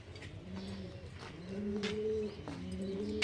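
Several pigeons coo close by in a rooftop loft, with soft repeated throaty calls overlapping against a low background hum.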